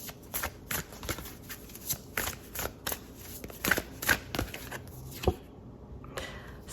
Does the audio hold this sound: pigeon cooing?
no